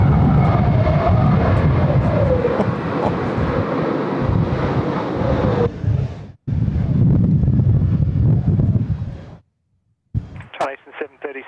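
A jet aircraft climbs out from Sydney Airport on a windy night, a loud broadband engine roar buffeted by wind noise that fills most of the clip, then drops away, with a person talking over it.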